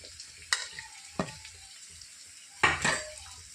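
Garlic and onions frying in a pan, a soft sizzle broken by several sharp scrapes and clinks of stirring, the loudest near the end, with no talking.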